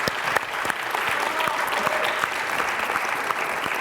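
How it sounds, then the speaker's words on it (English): Steady audience applause at a live podcast event honoring Muslim Achievement Awards finalists, dense and even clapping throughout the few seconds with faint voices underneath. "I do want to give a round of applause for that one as well."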